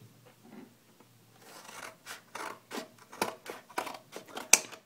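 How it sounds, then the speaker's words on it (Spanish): Scissors snip the corners off a flattened Tetra Pak carton being made into a coin purse, a series of crisp, close cuts and crunches that grow louder, ending in one sharp snip. "Con las tijeras lo que vamos a hacer es cortar las puntas"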